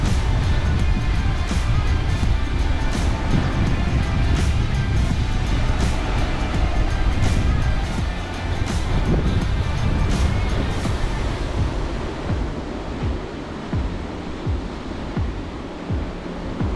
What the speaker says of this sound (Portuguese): Hoje o mar tá um pouquinho mais forte